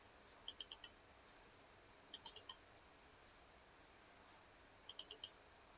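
A computer mouse gives three faint, close groups of four quick clicks, spaced a second or more apart, in a quiet room.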